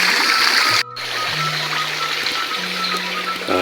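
Steady broadband rush of mountain stream water flowing through a rural hillside village on the slopes of Mount Cikaracak, loud and continuous with a brief dropout, a low hum running underneath.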